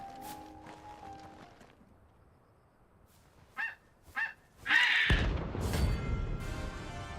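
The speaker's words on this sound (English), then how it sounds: "What a pretty looking bird." A bird in Final Fantasy XVI lets out two short honking calls, then a louder squawking cry that runs into a rushing burst of game noise, after a quiet stretch with faint background music.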